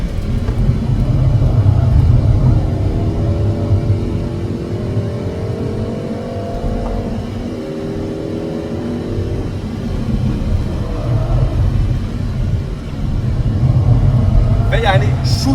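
A Peugeot 308 GTI runs steadily through fast corners, its engine a continuous loud rumble with rising and falling revs, while people talk over it inside the cabin.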